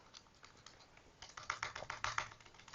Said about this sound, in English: I don't know why I'm going so slow today with this keyboard.